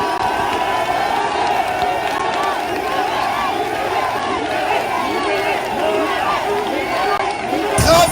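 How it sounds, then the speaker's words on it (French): A large crowd at a political rally in Paris cheers and shouts loudly and continuously, a dense roar of voices with rising calls over it, close and sustained throughout. "Applaudissez encore plus fort pour lui."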